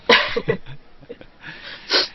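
A sneeze bursts out loudly at the start, followed by a short gasp and a second sneezy exhale near the end, during commentary on a Pokémon trading card game regional finals match.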